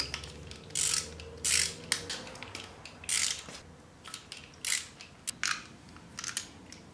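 Ratchet wrench clicking in short bursts while 14mm bolts come off three engine rollers, two smooth and one toothed, during the teardown of an engine with a rod knock; close, crisp ratcheting with brief pauses between strokes.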